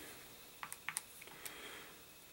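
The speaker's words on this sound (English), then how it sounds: "we're going to type that into our calculator" Numbers are tapped into a calculator: a quick run of about six light, faint plastic key clicks over a quiet background.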